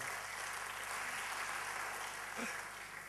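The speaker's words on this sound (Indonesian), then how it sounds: "Tepuk tangan buat Tuhan kita." Congregation applauding during a church service, a steady broad wash of clapping that fills the whole stretch at moderate distance, with a brief voice surfacing near the end.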